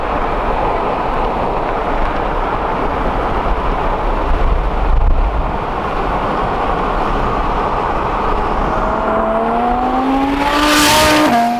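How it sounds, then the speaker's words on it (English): An Audi R8 twin-turbo approaches with a loud, steady roar that builds, then a rising engine whine and sharp rush as it blasts close past near the end. No voices. "Here comes the greatest flyby."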